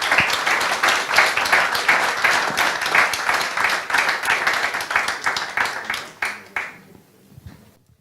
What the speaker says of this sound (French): Autant d'applaudissements